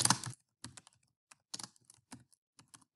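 Keys on a computer keyboard clatter in short, uneven clusters of close taps with small gaps between them while a folder name is typed into Office 365. No voices are heard.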